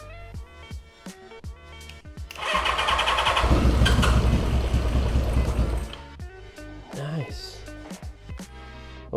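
A barn-find Honda CB550 motorcycle with only 6,000 miles cranks and fires into a loud, rough running roar for several seconds, then settles back, with short bursts of talk before and after.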